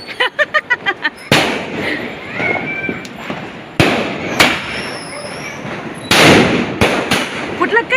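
Diwali firecrackers burst in quick succession on Lakshmi Puja night as rain begins to fall, sharp loud bangs and crackling pops at varying distances, with people talking and shouting between the blasts.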